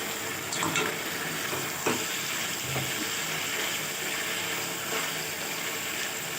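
Masala for black pepper chicken fries in a pan, a close, continuous sizzling hiss with occasional scraping stirs and soft clatters, no talking.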